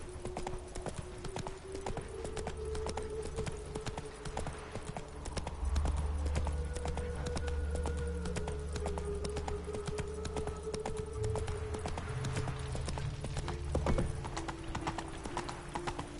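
Horse hooves clip-clop in a steady, rhythmic gait for a long stretch while riding into town in the video game The Witcher 3, with a low drone and occasional snorts in the background.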